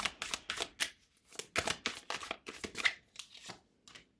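Tarot cards being shuffled and drawn up close: quick bursts of riffling and flicking paper cards, with short pauses between clusters and no talking.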